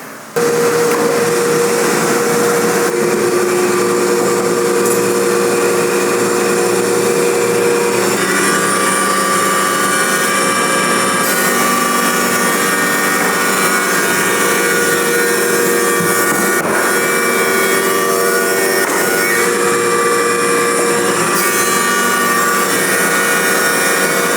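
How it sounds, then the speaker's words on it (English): A thickness planer feeds jointed hardwood pieces for a two-piece guitar body, giving a loud, steady machine roar with a whining tone that runs without a break and no voices. "Now that I got all sides jointed, need to run them through the planer."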